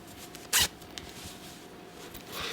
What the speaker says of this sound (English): A zipper.